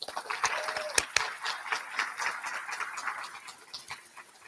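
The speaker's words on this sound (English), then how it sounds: "let's get one more round of applause for all the students being inducted today and everyone who's a first generation student" Audience applause at a first-generation student celebration for students being inducted: scattered clapping with a few sharp, nearer claps early on, gradually thinning and fading toward the end.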